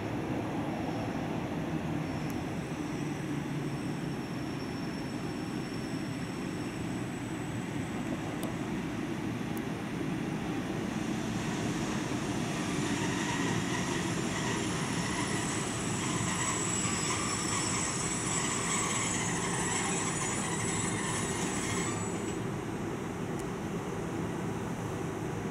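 An express train rumbles steadily beside a platform at Budapest Ferencváros station, with a high metallic whine rising midway, continuous and loud throughout.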